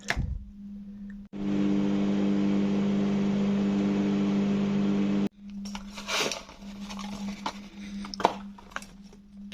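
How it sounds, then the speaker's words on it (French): A microwave oven heating French fries gives a steady, loud electric hum that starts abruptly, runs for about four seconds and cuts off, followed by light handling clatter and knocks. "je vais les passer au micro-ondes avant pour les ramollir"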